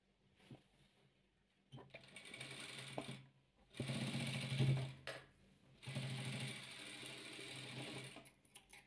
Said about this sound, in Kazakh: Енді қайтадан бастырып жасыл немен былай тігіп шығамыз.